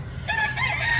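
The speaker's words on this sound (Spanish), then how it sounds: "ya están los gallos cantando" A rooster crows once at dawn on a small farm, a loud, close, rising-and-falling call over a low steady background hum.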